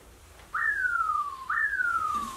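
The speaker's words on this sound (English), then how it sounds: "The whistle is when you're almost moving well." Two clear whistle tones come from a golf swing feedback device during a biomechanics golf lesson, each starting high and sliding steadily downward, about a second apart, close and alone over quiet background noise.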